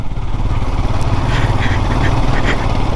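A Royal Enfield Himalayan motorcycle labors off-road over rocky steps on a hill trail, a loud, continuous, close engine chug rumbling with uneven throttle.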